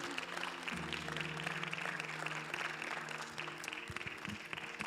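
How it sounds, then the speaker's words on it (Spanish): A church congregation applauds, a sustained, fairly faint wash of clapping heard over soft held organ or keyboard chords. "dale un aplauso fuerte al Señor"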